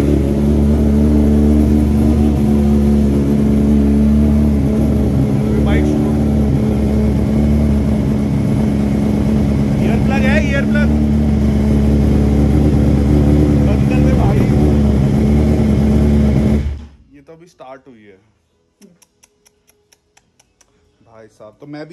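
A modified BMW engine fitted with a full aftermarket system revs loud and steady for about sixteen seconds, then cuts abruptly, leaving faint clicks and ticks as it settles.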